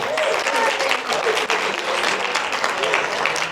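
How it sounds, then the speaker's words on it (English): A room full of people at a women's conference clapping loudly and continuously, a dense and sustained round of applause. "Now give yourselves a round of applause."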